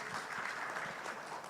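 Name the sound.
audience applause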